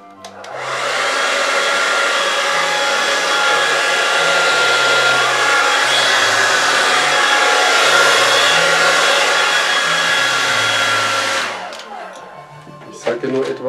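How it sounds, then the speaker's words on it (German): Hair dryer on its cool setting blowing across fluid paint, a loud steady whoosh that starts abruptly, holds for about eleven seconds and then cuts off, followed by faint handling noises. "So, und jetzt verpuste ich es etwas mit dem Föhn."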